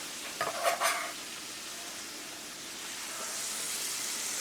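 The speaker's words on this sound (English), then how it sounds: "I'm going to go ahead and throw in my peppers and onions to let those start sauteing." Peppers and onions hit a pan of browned ground beef, stirred briefly with scraping clatter before settling into a steady, close sizzle of sautéing.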